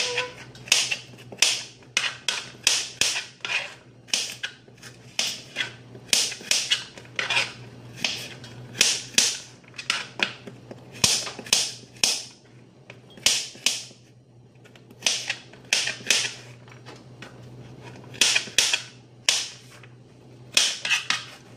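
A knife chops peeled food into cubes on a cutting board, producing sharp, close knocks in quick bursts of several strokes separated by short pauses, with no talking.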